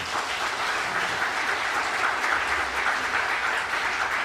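Steady, even applause from a church congregation at a Sunday worship service, dense clapping filling the room at constant volume for the whole stretch with no voices over it.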